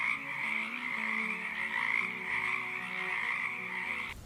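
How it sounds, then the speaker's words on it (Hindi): Several frogs croak steadily and continuously, a dense overlapping chorus heard loud and close for about four seconds before it cuts off abruptly. "ये सुनकर मेंढक टर टर करने लगे"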